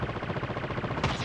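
Rapid burst of gunfire in the mobile shooter Call of Duty Mobile battle royale, a fast rhythmic string of shots with a louder crack near the end, no talking.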